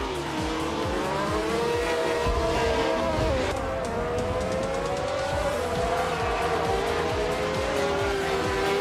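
Racing cars roaring off the line at Sonoma in a video game, led by a 1971 Ferrari 312B2, with loud continuous engine howl rising and falling through gear changes and dense overlapping motor noise.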